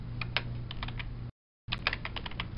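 Computer keyboard keys being typed, entering a command into a command prompt: a quick run of distinct clicks, a brief silent gap, then another burst of keystrokes, close and clear with no talking.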